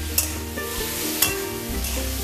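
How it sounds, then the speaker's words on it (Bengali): Spices with turmeric and Kashmiri chilli powder for chalta chutney are stirred in a hot pan. Close, steady sizzling runs throughout, with a couple of sharper spatula scrapes. "এগুলোকে আমি ভালো করে একটু নাড়াচাড়া করে নেব"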